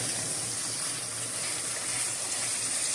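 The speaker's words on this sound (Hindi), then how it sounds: "थोड़ा सा पानी ऐड करता हूँ ताकि मसाले जो हैं वो जले नहीं" Water is poured into spices frying for a fish curry, giving a steady, broad hiss and sizzle of liquid hitting the hot pan that holds evenly throughout.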